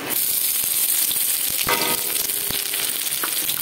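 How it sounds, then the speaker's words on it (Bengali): Chopped onion and garlic fry in hot oil with a steady, close hiss of sizzling, dotted with small pops and the occasional clack of a stirring spoon. "আর এটা আমি হালকা লাল লাল করে একটু ভেজে নেব।"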